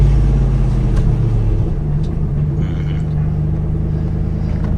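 Manual transmission car pulling away in second gear, a steady loud engine rumble with a low tone that shifts pitch partway through, close and continuous with no talk.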